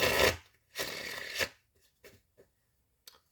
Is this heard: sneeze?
no